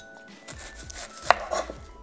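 Sweet onions being thinly sliced lengthwise with a knife on a cutting board, giving a few soft cuts and one sharp knock against the board, close and fairly quiet with no talk.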